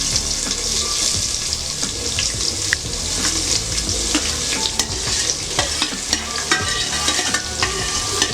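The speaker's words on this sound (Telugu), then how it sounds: "ఇప్పుడు మనం ఇది ఫ్రై చేసుకుంటాం బాగా బ్రౌన్ కలర్ వచ్చేదాకా." Onions frying in a pan for a curry while being stirred: a constant loud sizzle with scraping of the utensil against the pan and scattered clinks, continuous and close.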